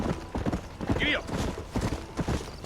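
A horse in the Red Dead Redemption video game trots with a brisk clip-clop of hooves, joined by a brief whinny and game background noise; a voice speaks over the hooves.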